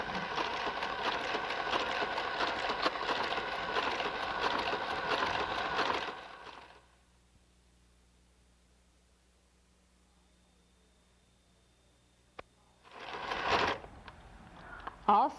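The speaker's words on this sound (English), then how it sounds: "Now your G carriage will travel across and will not make those stitches" A Brother KG-95 garter carriage runs across a knitting machine with a steady mechanical whirr for several seconds, stops into near silence, then makes a short second pass.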